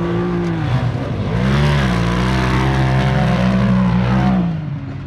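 A Polaris RZR Turbo S four-seater side-by-side drives off-road, its turbo engine revving loud and close, pitch climbing and falling through surges before easing off at the end.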